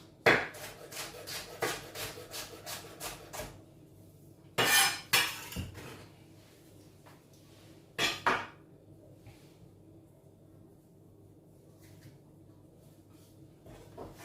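Spring onion being bashed on a kitchen board, a quick run of sharp knocks followed by two heavier bursts of pounding, close and clear with short pauses between.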